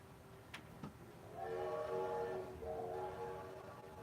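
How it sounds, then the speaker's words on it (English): A far-off train horn sounds in long, steady blasts, with the low rumble of the train underneath. "if you hold your breath, you can hear the train all the way to Pontica"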